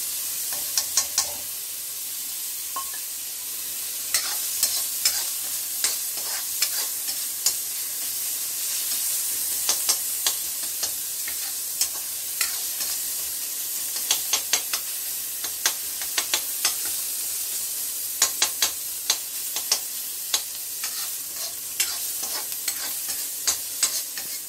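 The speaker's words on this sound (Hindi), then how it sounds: "अब जैसा कि देख रहे हैं कि ये प्याज लगभग लगभग भुन चुकी है पूरी तरीके से।" Onions and green chilies sizzle in a pan for tomato soup, a steady frying hiss close by, broken by frequent scraping clicks of a spoon as it stirs, with no voices.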